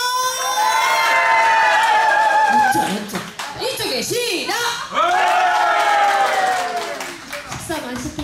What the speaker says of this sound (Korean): 이쪽에 박수 한번 하고 시작!